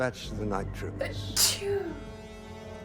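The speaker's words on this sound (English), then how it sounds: "Those are my sickness sneezes." A single sharp sneeze bursts out clearly amid background dialogue and music from a Star Wars episode, with voices talking before and after it.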